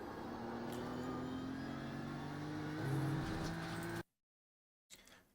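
A race car engine at full throttle in iRacing on the Nürburgring VLN circuit, a loud, steady drone with its pitch climbing through the rev range, then cutting abruptly to silence before a short burst returns.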